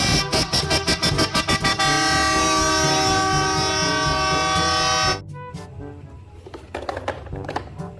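A school bus horn blares in a rapid burst of short toots, then holds one long loud sustained chord that cuts off abruptly, followed by quieter clattering and knocking sounds.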